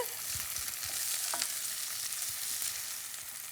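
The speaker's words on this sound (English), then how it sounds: "Now give that a stir." Chillies softening in a hot pan for a Macanese golden codfish stew, a steady sizzle and hiss with a few soft scrapes from stirring, alone and close.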